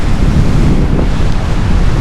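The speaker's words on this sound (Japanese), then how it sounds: "波が荒々しいっすね。" Rough ocean surf breaks along the Cape Town coast in South Africa, a loud continuous wash of crashing waves mixed with heavy wind buffeting the microphone.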